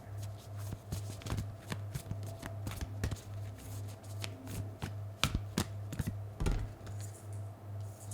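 Tarot cards being shuffled close up in a quiet room, with repeated soft riffles and crisp flicks coming in irregular bursts over a steady low hum.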